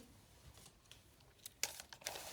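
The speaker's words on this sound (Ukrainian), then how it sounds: "відкриваємо наш пакетик" Paper surprise packet being opened: faint crinkling and tearing rustles, quiet at first and then a louder burst of crumpling paper near the end, close up.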